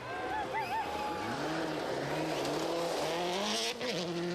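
Colin McRae's rally car cuts corners on the snowy 1997 Swedish Rally, its engine rising and falling through gear changes, loud and continuous with a faint voice underneath.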